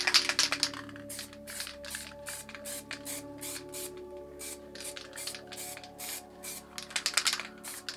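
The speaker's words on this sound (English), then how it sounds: "just spray around the lid stencils to give you an outline of where your planets are going" MTN water-based spray paint hisses around planet stencils in short, repeated bursts with brief gaps between them, close and fairly loud, with a faint rattle at the start and end.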